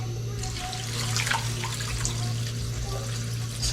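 Tap water runs into a cooking pot of pork and vegetable soup, a steady splashing pour at moderate distance over a low background hum.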